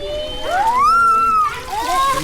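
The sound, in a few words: water poured from a bucket for bathing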